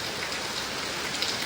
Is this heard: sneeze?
no